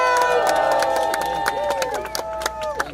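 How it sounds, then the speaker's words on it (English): A rally crowd at the UN cheers and claps for elected officials, a loud, continuous mass of shouting and cheering voices outdoors with scattered claps cutting through it. "Give a big round of applause for our elected officials that stood with us"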